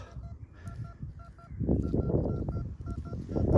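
A metal detector sweeps a farm field, sounding repeated short electronic beeps in two pitches over a low rumble of handling and ground noise.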